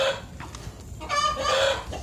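A rooster clucks in short bursts, with a brief rising crow-like call near the end, fairly close over a faint outdoor background.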